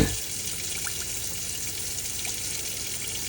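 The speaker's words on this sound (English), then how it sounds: "come to the tap over here and draw the water through on the hot side of the tap" Water runs steadily from the hot side of a tap in a Nu Venture Elise caravan, a constant soft rushing stream without a break.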